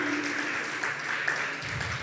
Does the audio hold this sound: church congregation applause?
yes